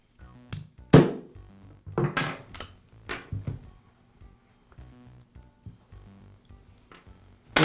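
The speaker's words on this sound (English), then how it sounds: "I'll use a punch to remove the post from the button." A punch knocks the post out of the button on a Makita reciprocating saw during repair, producing a few sharp metallic taps and clinks spread unevenly with quiet gaps between, close-up and without speech.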